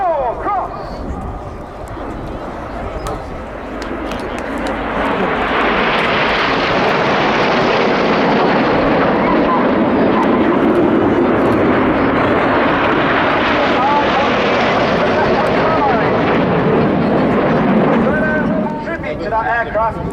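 Red Arrows jets fly a crossing manoeuvre at the RAF Cosford Airshow 2024, their broad engine roar swelling to a loud, sustained rush before easing off, with a commentator talking over it.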